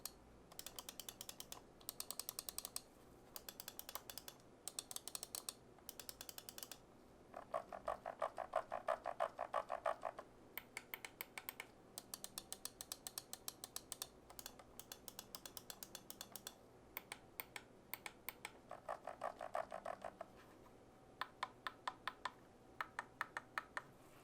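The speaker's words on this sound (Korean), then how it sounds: "마우스 버튼의 클릭음을 들어보도록 하겠습니다" Rapid bursts of crisp button clicks from a Razer DeathAdder V2 gaming mouse with optical switches, quiet and close, coming in quick runs separated by brief pauses.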